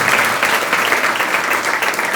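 Audience applause at a spiritual discourse, a dense, loud, steady wash of many hands clapping for a couple of seconds.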